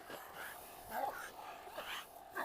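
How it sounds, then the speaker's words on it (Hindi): A Rottweiler panting and giving short rough barks and growl-like vocal bursts at moderate distance, several uneven outbursts amid background noise. "जानवर भौंकते हुए हाफने लगा।"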